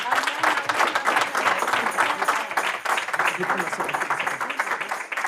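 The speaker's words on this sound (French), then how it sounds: "Vous pouvez les applaudir." A congregation applauds the brothers and sisters at a religious gathering in Paris, dense sustained clapping filling the room without pause, with voices mixed faintly underneath.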